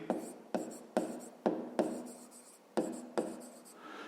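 A math solution for a fifth-grade exercise being written out by hand, heard as about eight distinct scratchy strokes in a steady rhythm, each starting sharply and fading, close and quiet with no speech.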